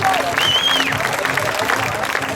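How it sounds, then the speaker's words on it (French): Crowd at a youth bouldering competition in L'Argentière applauds a climber, steady clapping mixed with crowd noise and a whistle-like tone, with an announcer's voice over it. "on peut applaudir Chloé Collier."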